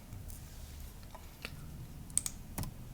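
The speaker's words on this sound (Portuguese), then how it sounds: "Então vou pressionar Enter." Computer keyboard keys pressed during an Ubuntu XFCE setup, including the Enter key, heard as a few faint, sharp clicks spaced apart over a quiet room hum.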